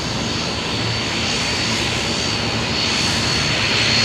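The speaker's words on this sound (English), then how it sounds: "That Dash 8 there just arrived back from Gladstone." A Dash 8 turboprop arriving at Brisbane Airport holds a steady, loud propeller drone that swells slightly toward the end, with no talking.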